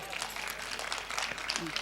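Audience applause for the elderly folk singer Bannur Kempamma at a Kannada sobane pada folk performance: a steady wash of many hands clapping, fairly distant and even, continuing throughout with some crowd noise.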